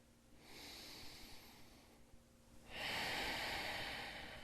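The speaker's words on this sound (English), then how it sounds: "Deep breath in, and as you exhale, legs toward the left." Deep breathing during a core exercise workout: a long, soft inhale followed by a louder, fuller exhale, close and alone without speech.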